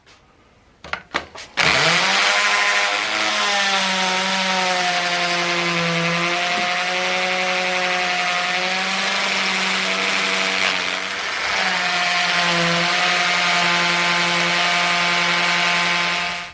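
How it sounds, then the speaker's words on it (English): A power drill bores steadily through sheet material a person is working on at home, a loud continuous whine with a slight pitch wobble after a few brief starts, running without a break for most of the stretch. "So you can see just how easy this stuff drills through."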